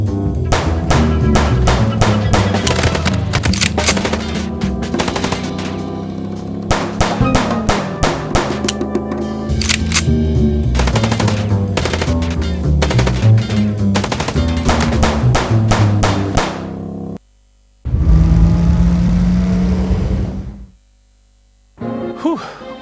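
Gunfire from the game Chicken Police arrives in dense rapid bursts of sharp shots over a low background score, then breaks off into short pauses and a sustained noisy rush.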